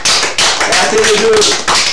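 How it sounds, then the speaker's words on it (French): An audience applauds a university slam poetry world champion, a short burst of clapping in pulses with voices mixed in. "Je crois que ça mérite encore des applaudissements."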